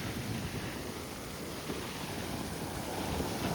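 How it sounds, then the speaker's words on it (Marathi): Sea waves wash onto the beach at Poovar Island in a soft, even surf hiss with a faint wind rush, distant and quiet, with no voices. "सो समोर आहे समुद्र."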